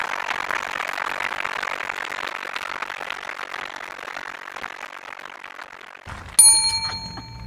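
A bell rings once near the end, signalling the 30-second warning at the LA Fleet Week 2017 Galley Wars cooking competition. It cuts clearly through steady crowd and kitchen noise, then a ringing tone lingers.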